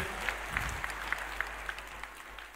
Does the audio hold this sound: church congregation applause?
yes